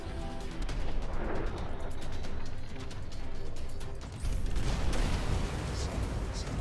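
Dense, continuous rumble of explosions and weapon fire in the sci-fi tower defense game X-Morph: Defense, a heavy roaring barrage with crackling bursts and a sharper surge near the end.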